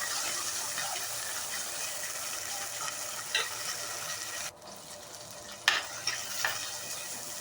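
Garlic and curry leaves frying and being stirred in a pan for a sardine fish curry, a steady close sizzle with a few scraping stirs and brief clatters, no voices.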